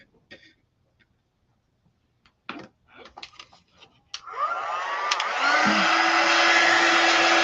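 A heat tool dries fabric quilt blocks for a snowman block set; soft clicks and handling noises come first, then the tool switches on with a loud, steady, close whir that fills the last few seconds.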